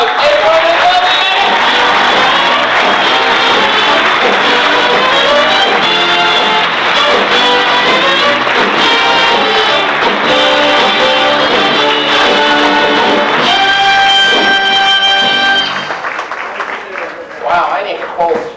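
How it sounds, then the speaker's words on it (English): A cruise-ship crowd cheers and applauds for a woman aboard a Carnival cruise in 1995, loud mixed clapping, whoops and shouting over loud music that thins out near the end. "And all this applause is for this lovely lady."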